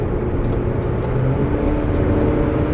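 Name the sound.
Hyundai Grandeur TG Q270 car accelerating on road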